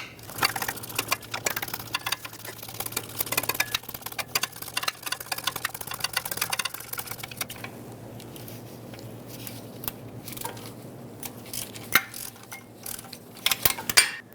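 A bolt is ratcheted tight to hold a starter in place on a 2006-2011 Honda Civic, giving steady rapid mechanical clicks and metallic ticks up close. The clicking is denser early on and sparser later, with no talk.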